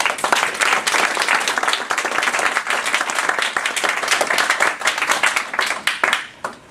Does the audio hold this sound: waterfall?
no